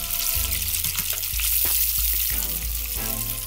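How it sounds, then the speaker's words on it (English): Fish nuggets of chub, snapper and grunt deep-frying in hot oil, a loud steady crackling sizzle lasting throughout with a few low thumps, close up and with no one talking. "Look at them fish nuggets I was telling you about. Drop him on in there."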